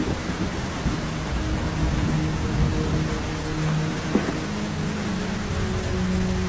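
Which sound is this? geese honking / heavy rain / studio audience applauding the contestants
heavy rain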